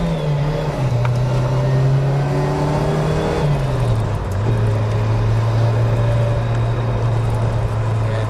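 A turbocharged engine in a 1983 Nissan Skyline DR30 runs loud and steady, holding a droning tone. Its pitch dips briefly midway and then settles again, with no talk over it.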